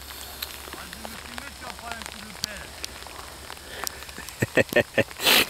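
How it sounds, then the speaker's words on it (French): Rain falls outdoors on a January metal-detecting outing, a steady patter with scattered close drops that runs beneath a man's speech and ends with a few louder knocks. "il se met à pleuvoir comme un col, c'est super agréable"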